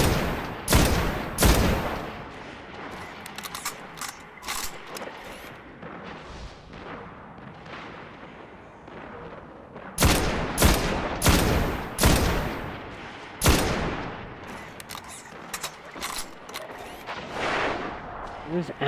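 Rapid gunfire from emptying a full clip in the shooter game Destiny, loud dense bursts of shots with booming impacts, pausing briefly and then resuming in heavy volleys, with a player talking intermittently.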